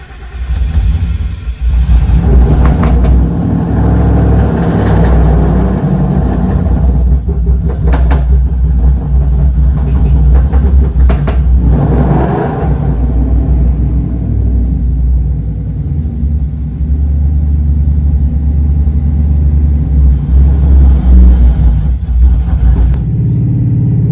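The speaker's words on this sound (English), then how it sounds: "The new exhaust with a cold start." A car with a new full exhaust cold starts: a sharp catch on ignition, then a loud, deep, rumbling idle that swells and settles several times with occasional blips of revving, close and steady throughout.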